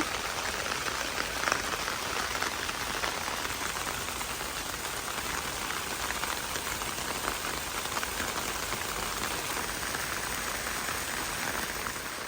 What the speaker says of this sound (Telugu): ఈరోజు వర్షం బాగా పడుతుంది